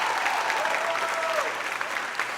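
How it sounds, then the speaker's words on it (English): Audience applause at a school moving-up ceremony, a dense, steady clapping from a crowd lasting the whole moment with no break. "would you clap your hands once again for Samuel?"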